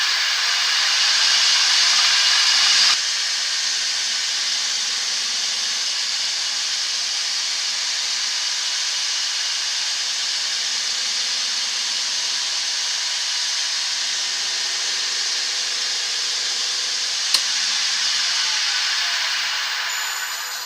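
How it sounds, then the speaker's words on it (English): A wood lathe spins a laminated sycamore and purpleheart bowl at speed while a clean towel buffs the finish, producing a steady, loud broadband whoosh that runs without a break and sounds close by. "spin the lathe up nice and quickly, and give it a big buffing"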